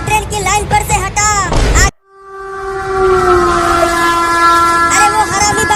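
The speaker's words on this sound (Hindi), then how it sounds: "आगे से ट्रेन भी आ रही है।" A cartoon train approaches along the railway line, its horn blaring in a long sustained tone over a steady rumble after an abrupt cut from busy, voice-filled action.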